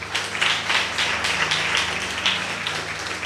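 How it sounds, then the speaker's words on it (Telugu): A crowd at a Telugu Catholic worship gathering claps hands together steadily in praise, a dense, continuous patter of many palms sustained throughout, loud and close. "గట్టి చప్పట్లు కొట్టండి"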